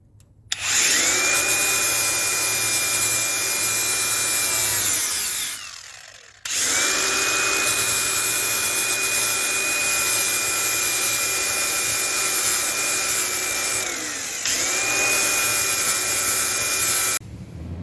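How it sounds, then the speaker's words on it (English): Power grinder taking rust back to bare metal on an old car, a loud, close, sustained high whine in three long passes with brief pauses as the tool spins down and restarts. "I'm probably just going to grind all this back on camera"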